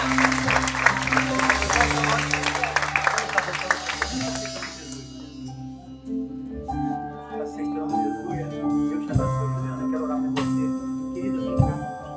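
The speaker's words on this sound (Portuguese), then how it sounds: "Você pode aplaudir ao Senhor." A church congregation at a Sunday celebration service applauds loudly at first. The clapping fades after about five seconds, leaving sustained instrumental music and a few scattered claps.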